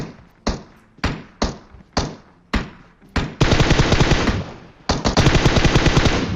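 Bots trading automatic gunfire in a battle royale video game: several sharp separate bursts with short gaps, then sustained rapid fire, a pause, and another long loud volley, close and with no talk over it.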